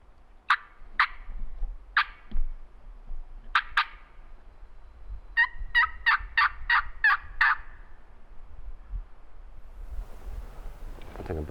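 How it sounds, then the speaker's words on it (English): A wild turkey gobbles several times in Tennessee public-land woods, sharp rattling calls from a middle distance, with a quick burst of repeated notes partway through over a quiet outdoor background. "I think a bird just gobbled up that way."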